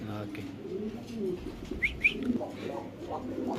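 Pigeons at a seller's coo softly with a couple of sharp chirps in between, heard nearby over a low murmur of background voices.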